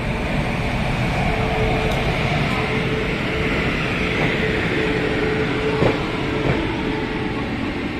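A Howrah-shed WAP7 electric locomotive pulls a train out of Malda Town station, a steady, loud rumble of rolling wheels and carriages with a few faint clicks and knocks over the track.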